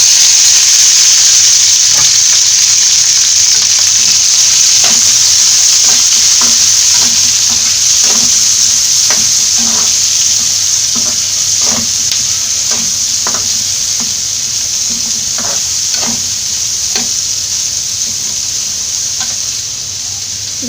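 Curry leaves and chopped shallots frying in hot oil for Kerala fish pollichathu, a steady loud sizzle and hiss with soft irregular spatula scrapes and ticks throughout, no voices.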